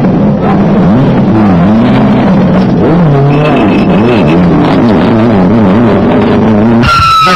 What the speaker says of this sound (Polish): Tu nie udało im się dohamować auta i uderzyli w drzewo